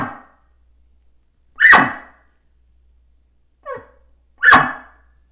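Three short, sharp barks from a Phelps Game Calls elk call imitate an elk's alarm bark, each a quick loud burst separated by silence, close and alone.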